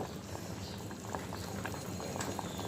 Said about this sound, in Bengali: এই যে আলু আর পটলটা সিদ্ধ করে নিচ্ছি